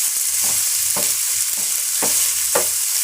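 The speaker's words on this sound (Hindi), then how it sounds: "तो पहले प्याज को मैं फ्राई कर लेती हूँ अच्छी तरह" Onions frying in a pan, a steady hiss of sizzling oil with several spatula scrapes spaced across it, close and fairly loud, no voices.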